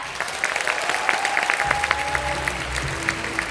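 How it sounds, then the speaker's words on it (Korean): Audience applause at a Korean company convention after a speech, sustained steady clapping from a large crowd with a faint tone in the background and some low rumble partway through. "다시 한번 이지연 사장님께 큰 박수 부탁드리겠습니다."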